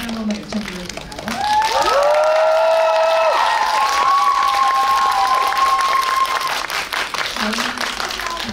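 Audience at a film screening in a CGV cinema hall claps and cheers loudly and steadily as the director and cast walk in, with high whoops and shouts rising over dense applause for several seconds before fading.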